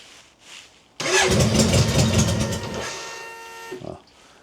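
A BMW K100 motorcycle engine with the choke pulled out cranks and catches abruptly, roaring loudly up close for nearly three seconds before dropping away, with brief faint voices before and after.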